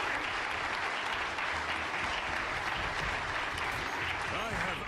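An audience claps mid-speech in a continuous, full wash of applause, with some low voices audible underneath.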